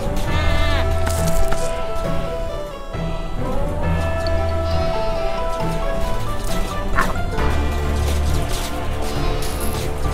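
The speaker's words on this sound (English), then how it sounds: "You freaking sheep." Sheep bleat repeatedly in the farming game Dead Acres, over a busy game soundscape of crashes, splintering wood, barking and background music, the calls recurring loudly and close throughout.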